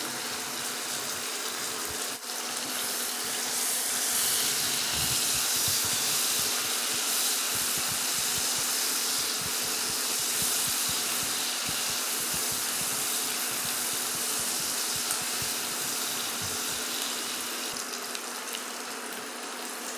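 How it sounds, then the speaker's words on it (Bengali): Onions sizzle in hot oil in a pan for Afghani Kabuli pulao, a dense, steady frying hiss that fills the whole stretch with no talk over it. "এবারে এটাকে ভাজবো, গোল্ডেন কালার করব"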